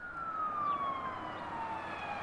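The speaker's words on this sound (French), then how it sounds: "Sirène de police de New York." A New York police car siren wails steadily on its own, a clear sustained tone sweeping slowly downward, loud and unbroken with no talk over it.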